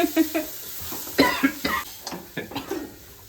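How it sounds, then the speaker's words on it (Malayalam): Several short, harsh coughs come in quick bursts, brought on by fumes from frying catfish eggs, mixed with faint kitchen sizzling and stirring noises in the background. "അപ്പൊ നല്ല ചുമ വരുന്നുണ്ട്."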